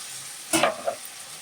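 Vegetable pieces frying in a pan for Andhra-style veg biryani give a single short burst of sizzling and stirring, loud for a moment before settling back into a quiet hiss.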